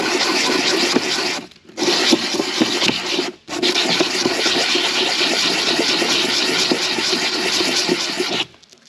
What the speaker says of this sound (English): we'll try the 220 grit just to polish it up, get the sanding marks out of it